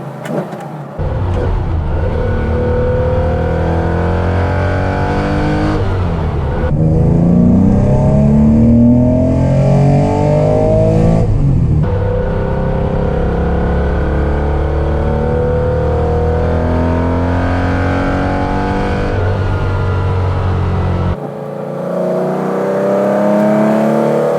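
A Porsche 911 ST engine revs hard through climbing gears, a loud close-up in-cabin roar rising in pitch with each pull, cut by brief drops at the gear changes, with no talk over it.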